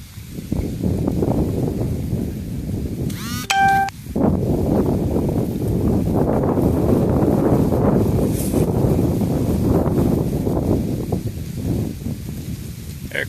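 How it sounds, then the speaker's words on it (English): Strong wind near La Soufriere volcano on St Vincent roars steadily across an outdoor microphone, loud and close, with one brief electronic chirp in the middle. "Extremely windy"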